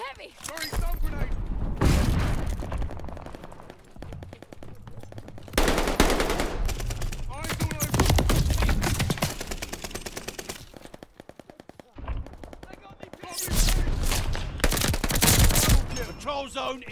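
Heavy gunfire rages in the Call of Duty Vanguard video game: sustained machine-gun bursts and rapid shots come in loud waves, broken by brief lulls, then a final dense volley.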